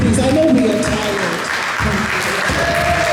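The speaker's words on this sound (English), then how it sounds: "So a round of applause. Let it be loud, please." An audience at an embassy event applauds, a rush of clapping that swells and fades in waves while a speaker's voice carries over it.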